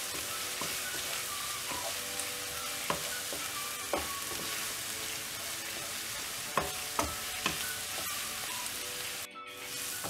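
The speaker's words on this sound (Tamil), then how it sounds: "இதை நல்லா வதக்கிடலாம்." Onion, ginger and garlic sauté in oil in a pan for a hotel-style vegetable kurma, making a steady, close sizzle broken by occasional light stirring knocks, with a brief cut near the end.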